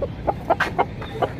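A rooster clucks in short, quick bursts, several soft close-up clucks in an uneven rhythm over quiet background.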